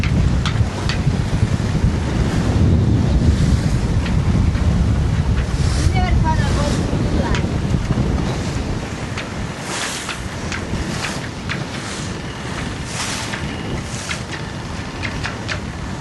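Strong, steady wind roars across a 1977 Morgan 41 Out Island ketch under sail, heeled over on autopilot, with waves rushing and splashing against the hull throughout and the gusts easing slightly partway through.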